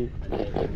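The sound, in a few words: caught fish making a grunting sound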